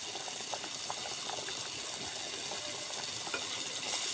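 Egg curry gravy (dim bhuna) with tomatoes fries in oil in a pan, giving a soft, continuous sizzle with faint bubbling and crackle. It stays fairly quiet, with no talk.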